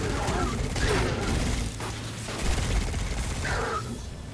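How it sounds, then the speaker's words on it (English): Gunfire in the video game Destiny 2, scattered shots and bursts mixed into a dense, busy game soundscape with broadband noise, heard under intermittent talking throughout. "somebody is shooting at me"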